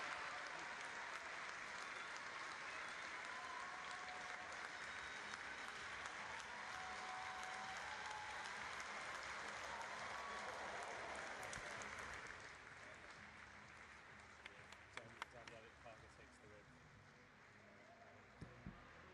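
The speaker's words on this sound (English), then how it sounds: "let's hear a big cheer for these last 2 rides" A crowd at a youth girls' omnium cycling race roars and applauds in a sustained, loud wash of noise, easing to a quieter spread of claps and scattered cheers for the closing seconds.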